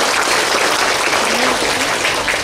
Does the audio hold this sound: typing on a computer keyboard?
no